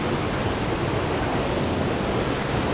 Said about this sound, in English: All these cascades.